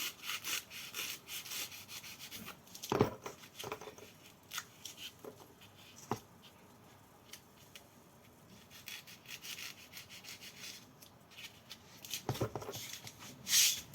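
Excess padding is trimmed off a padded stick, giving soft rubbing and scraping cut strokes that are quiet and close, with a few sharper bursts spread unevenly among them.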